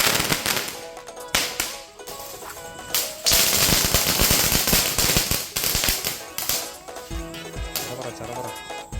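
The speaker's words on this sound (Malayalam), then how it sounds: "ഈ പടക്കത്തിന്റെ പേരെന്താണെന്നറിയോ? ചറപറ." Chara-para firecrackers burst at a Vishu celebration in a dense, rapid chain of loud cracks and pops nearby, with sharp snaps continuing in clusters for several seconds.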